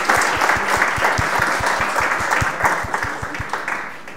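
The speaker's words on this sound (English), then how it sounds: "I think another round of applause would be appropriate." Conference audience applauding at the close of a talk on Scala programming, a steady dense patter of many hands clapping throughout, moderately loud and continuous with no talk over it.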